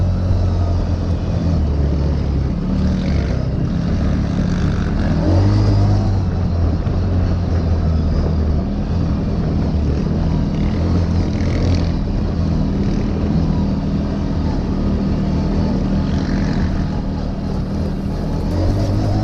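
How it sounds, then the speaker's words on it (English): A Yamaha Grizzly ATV engine with a new aftermarket exhaust gives a loud, steady drone with a deep low rumble filling the whole stretch, swelling slightly in spots as the throttle opens, with no talking. "I love it when the Grizzly in the front cracks the throttle. He's got a new exhaust on it"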